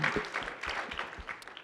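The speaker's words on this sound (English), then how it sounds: "round of applause." An audience at a cannabis gathering in New York gives a short round of applause, a brief patter of clapping close by.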